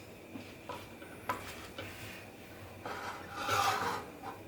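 Light brown sugar being mixed in a pan for apple turnovers, with a spoon rubbing and scraping against the pan in soft, irregular strokes, close and quiet, growing a little louder near the end, no talking.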